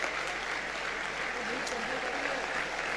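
Musicians are applauded at an honour ceremony in Gujarat, a steady, moderately distant crowd clapping while a voice speaks over it.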